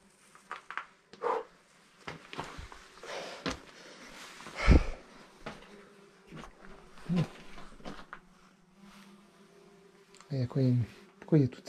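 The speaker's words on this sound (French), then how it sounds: "Pourquoi il y a toutes ces abeilles là?" Bees buzz in short, scattered bursts close by at the Fumada cave, with a few louder passes and breathy movement noises between them.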